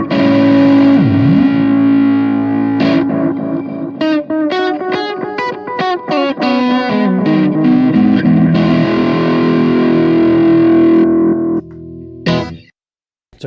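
Distorted electric guitar fed into a vintage Boss DM2 analog delay, thick saturated chords and riffs smearing into trailing echoes, a bending note early on and a sustained tail before cutting off, loud and alone.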